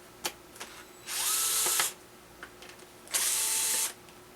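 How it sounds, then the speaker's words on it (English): Two close, loud bursts come from a power drill backing out the foot pad screws on a Onewheel Pint electric skateboard, each lasting under a second, with light clicks and handling taps before and between them. "we take off these 2 foot pad screws right here"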